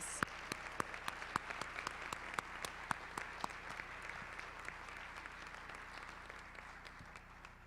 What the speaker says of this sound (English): Now we can give all of our seniors a great round of applause.